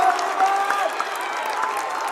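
Away crowd at a high school boys basketball game cheering and clapping in a dense, steady roar of applause with scattered shouts, continuous through the short stretch.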